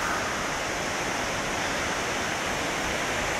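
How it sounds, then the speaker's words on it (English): A waterfall roars steadily and loudly, a dense broadband rush of falling water with no break, heard near the path on a wet day with no voices over it. "that's the waterfall."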